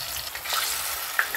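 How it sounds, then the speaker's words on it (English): Plantain and egg sizzle steadily in a hot pan, a dense crackling hiss with a couple of sharper pops. "As much as I love the sizzling sound, I also hear it."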